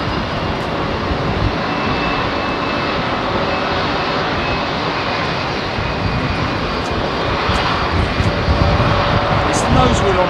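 A heavy jet airliner departs runway 27R at London Heathrow, its engines producing a loud, continuous broadband roar that holds steady throughout and swells slightly toward the end, with faint high whines above.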